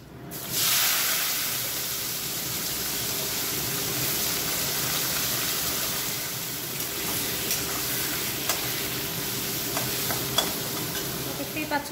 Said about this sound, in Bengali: এবার পেঁয়াজটাকেও ভেজে নিতে হবে।